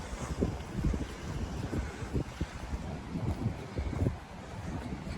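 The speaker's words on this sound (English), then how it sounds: "it's bloody windy too" Strong gusting wind at Aldermaston Mill buffets the microphone with a low roaring rumble, steady throughout, with a faint wash of water in the background.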